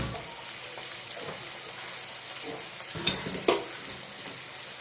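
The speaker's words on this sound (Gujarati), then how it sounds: "2 લાલ મરચાં, સરસ અને સોતે કરી દઈએ" Two red chillies sauté in a pan with a soft, steady frying hiss at low level, with a few light stirring clatters toward the end.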